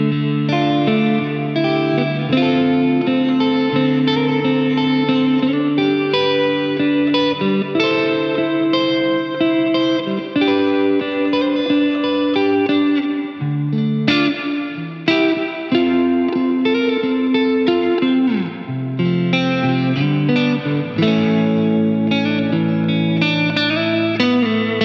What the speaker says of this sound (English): Just listen to these amazing, huge and lush reverb sounds.